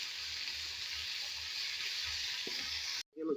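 Onion sautés in hot oil for a Kerala chickpea roast, giving a steady, close sizzle with faint stirring taps that cuts off abruptly near the end.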